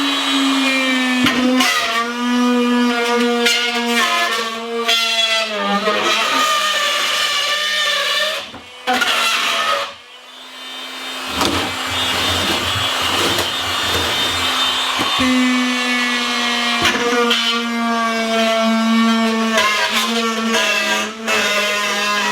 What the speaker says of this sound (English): A drywall router, guys.